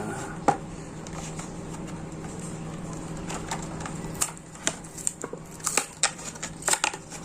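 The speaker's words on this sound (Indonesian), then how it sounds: "Langsung kita buka blisternya. Mari kita dengarkan ya sobat brum-brum," Plastic blister packaging around a Porsche 356 A Outlaw die-cast toy car crinkles and crackles as it is opened by hand, with scattered sharp snaps that grow busier toward the end over a steady low background hum.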